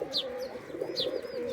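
Close, rolling coos from Giribaz pigeons at a Rajshahi fancier's loft pulse steadily, joined by a couple of short, bright chirps from other birds.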